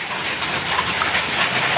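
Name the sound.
heavy rain during a storm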